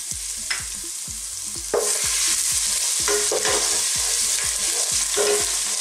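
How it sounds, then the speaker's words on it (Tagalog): Ginger and garlic sauté in hot oil in a pan, a bright continuous sizzle with a regular rhythm of spatula scrapes and taps against the pan, close and loud. "So, gisa-gisa lang po."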